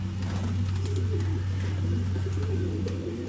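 Pigeons coo softly and repeatedly over a steady low engine hum, with faint rustles in the background.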